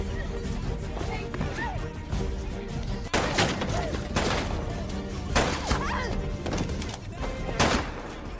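A gunfight and brawl at a harbour unfold in the 2022 film Limit. Sharp bangs and crashing impacts burst irregularly over a busy, loud soundtrack bed.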